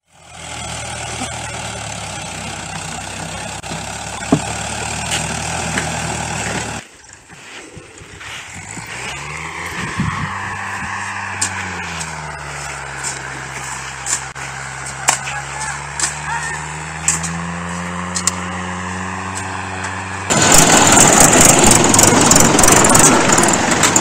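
Sand tractor engines idle and rumble beside the Kagna river, a low steady drone whose pitch rises and falls, with a few sharp clanks and a louder burst of noise at the end.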